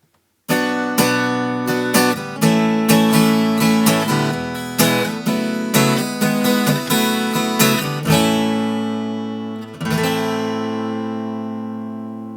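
An acoustic guitar plays the chorus of a song alone, with bright strummed chords in a steady rhythm, a brief pause, then a final chord left ringing out.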